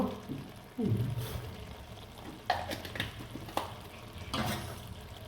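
A spoon stirs banana flower curry with prawns in a pan, giving a few soft scrapes and clinks over a faint, steady sizzle with no voices.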